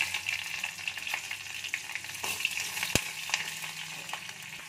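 Dried and green chilies frying in hot oil with asafoetida for a temple-style tamarind rice, a steady bright sizzle throughout with a few sharper crackles and pops, close and alone without talk.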